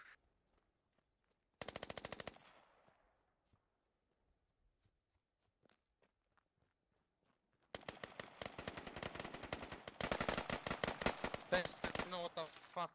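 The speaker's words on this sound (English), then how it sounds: "Fuck, who just shot me?" Gunfire in the Squad video game: a short burst of automatic fire, a long quiet stretch with faint scattered noises, then sustained rapid machine-gun fire that grows denser and louder toward the end.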